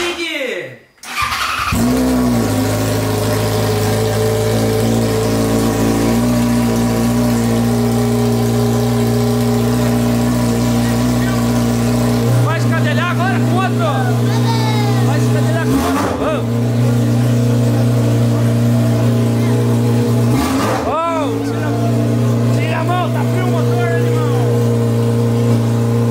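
A Yamaha XJ6 motorcycle engine cranks and catches, then settles into a steady, loud idle with a few sharp revs, close by, while people talk over it.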